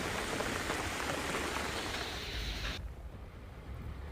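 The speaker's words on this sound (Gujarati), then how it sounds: "તો ક્યાંક ઝરમર વરસાદ શરૂ થયો" Drizzling monsoon rain in the rural countryside of Bhavnagar district, Gujarat, a steady dense hiss of falling drops that drops slightly in level partway through, with no voices.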